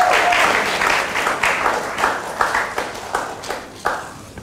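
An audience at a school quiz competition applauds Presbyterian Boys Senior High School, a sustained wash of clapping with sharper individual claps popping through, gradually easing off.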